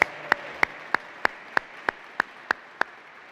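At an evening humanities awards ceremony, sharp, evenly spaced claps ring out in a steady rhythm, about three per second, each crisp and distinct over a quiet background.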